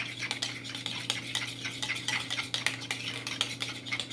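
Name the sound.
stirring a mustard, mayo and maple syrup mixture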